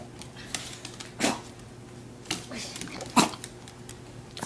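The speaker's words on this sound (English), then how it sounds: "Look at all the sweet puppy wanting to play." A small dog gives a few short, sharp yips and whimpers, spaced about a second apart, close by over a quiet background.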